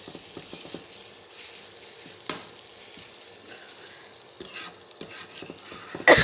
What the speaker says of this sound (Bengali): তো আমি আদা রসুনটা পেঁয়াজের সঙ্গে আরেকটু সুন্দর করে ভেজে নিব।